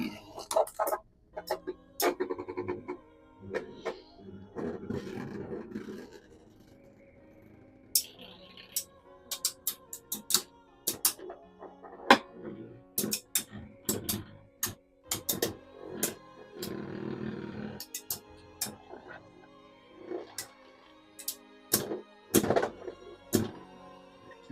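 Beyblade spinning tops clashing in a stadium, a string of sharp, close knocks and clacks at irregular intervals, with quieter stretches of rattling between impacts.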